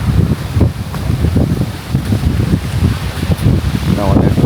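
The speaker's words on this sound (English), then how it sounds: "let me come out of the wind" Outdoor wind in Jamaica buffets a microphone, making a steady, close, low rumbling roar with small gusty swells and a voice partly buried underneath.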